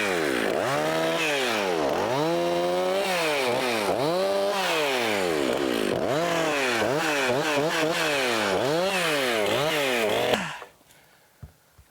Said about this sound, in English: This is a chainsaw mill, Alaska Mark IV chainsaw mill with a Husqvarna chainsaw.